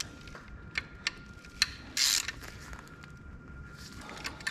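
Ratchet wrench tightening bolts on a 3.6 VR6 engine accessory bracket from a junkyard, heard as several short separate clicking bursts, one louder rasping run in the middle, fairly close with quiet gaps between.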